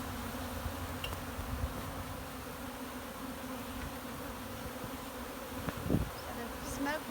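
Honeybees buzz at an opened hive, a dense and steady droning hum close by, with a few louder individual bees passing near. The buzzing runs continuously with no talk over it.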